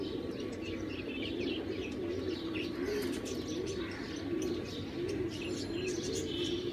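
Pigeons and their chicks in a crowded home loft coo steadily in repeating low pulses while thin chirps and occasional wing flutters sound throughout, close and continuous with no talking.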